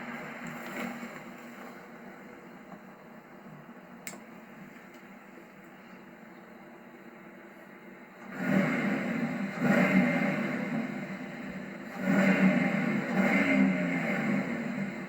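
A 2008 Pontiac Grand Prix GXP's V8 idles with a low, steady exhaust hum, then is revved twice, each rise a louder, swelling roar that falls back, heard from close by with no talking.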